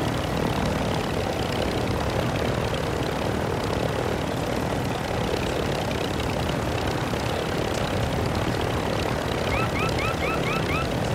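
A continuous loud engine and rotor drone of a helicopter in Call of Duty DMZ fills the whole stretch, steady and close, flying overhead, with a faint chirping alert near the end.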